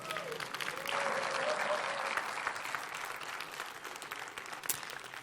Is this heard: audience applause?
yes